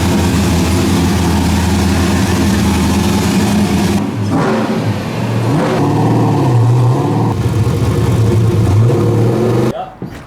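Loud car engine fitted with a Wisefab V2 kit, lowered ride height, revving and idling as it is driven up into a trailer, with people talking over the engine noise before it cuts off at the end.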